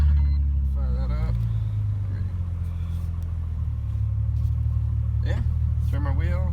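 A car engine, fired up in a car fitted with racing seats and a new steering wheel, rumbles deep and steady from start to finish while a voice briefly talks over it.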